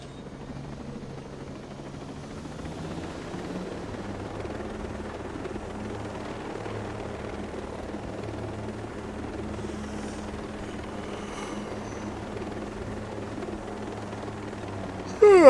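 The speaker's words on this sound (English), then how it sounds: "We want to drive the helicopter." A helicopter in the video game Ghost Recon Breakpoint gives a steady low rotor drone and engine hum that builds slowly over the whole stretch, with a brief louder bump at the very end.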